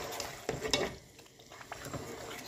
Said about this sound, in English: After adding yogurt, cook the curry for 5 minutes on high flame.